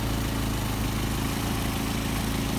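A Mercedes 190SL engine fitted with Solex carburetors idles at about 700 RPM, a steady, close, even rumble that holds constant throughout with no voices.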